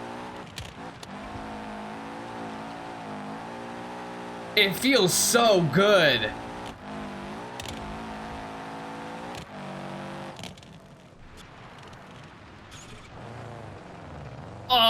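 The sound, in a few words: Sunburst rally car engine in BeamNG video game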